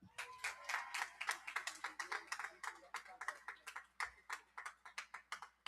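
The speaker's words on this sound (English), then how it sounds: "Give him another round of applause." An outdoor July 4th crowd at Colonial Williamsburg, Virginia, claps for Congressman Whitman, with sharp, distinct handclaps in a quick, uneven rhythm close by against a quiet background.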